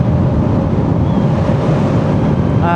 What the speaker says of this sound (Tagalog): Medyo mahangin kasi ngayon